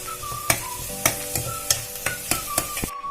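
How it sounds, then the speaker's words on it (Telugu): Onions fry in a pan for mutton and potato gravy with a constant sizzle, while a spoon scrapes in a regular rhythm about twice a second before everything stops. "ఆనియన్స్ బాగా వేగాలండి, కొంచెం మగ్గాలి."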